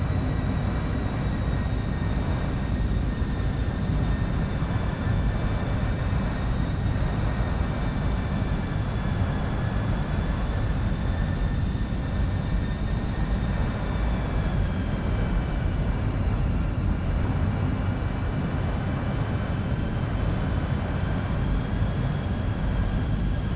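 Cockpit of a jet airliner on final approach to land on runway 31 at Malaga: a loud, steady broadband engine and airflow rumble with faint tonal whines, continuous and unchanging throughout.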